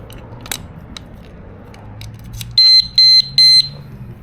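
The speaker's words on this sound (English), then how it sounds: "You hear the alarm." A motorcycle disc lock clamped in a wheel rim sounds its alarm after its button is pressed: faint clicks and handling noises, then three short, loud, high electronic beeps in quick succession.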